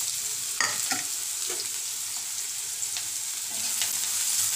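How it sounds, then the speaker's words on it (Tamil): Chopped onions and green chilies sauté in a hot pan with a steady bright sizzle and a few clattering stirs near the start, close up with no talking. "இப்போ நம்ம வெங்காயம் போட்டுக்கலாம். வெங்காயத்தோடையே சேர்ந்து பச்சை மிளகாயும் போட்டுக்கலாம்."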